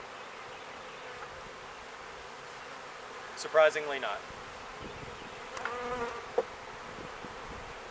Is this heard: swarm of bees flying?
yes